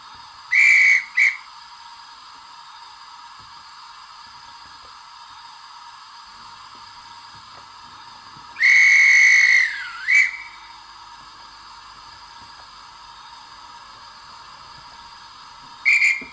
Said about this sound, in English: Function 12 is dispatch whistle while standing